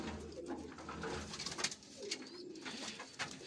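Pigeons cooing in a breeder's loft, soft low murmuring coos that continue steadily at a moderate distance amid faint room noise.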